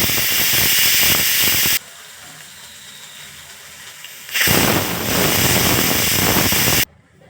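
A pressure cooker on the stove releases two loud bursts of hissing, whistling steam, each lasting a couple of seconds, separated by a quieter stretch of background hiss.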